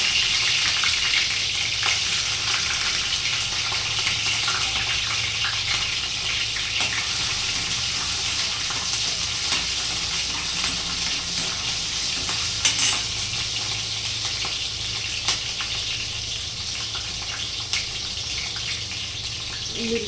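Green chilies and garlic fry in a pan, giving a steady, loud, unbroken sizzle that holds for the whole stretch with only faint stirring clatter underneath.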